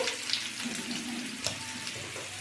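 Potatoes seasoned with turmeric and salt fry in a pan with a steady, soft sizzle and occasional crackles. The hiss stays even and fairly quiet throughout.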